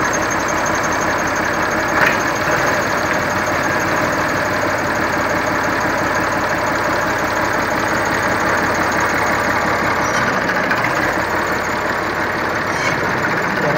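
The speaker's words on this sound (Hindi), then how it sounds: "तेज है जनाब, छोटा जहा ट्रैक्टर।" An old Massey Ferguson 135 tractor engine chugs loudly and steadily nearby, its rapid knocking pulse continuing without pause throughout.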